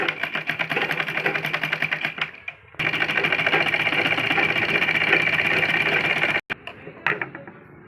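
Sewing machine stitching a latkan tassel and cord onto a blouse, a rapid steady needle clatter running continuously, pausing briefly twice before resuming.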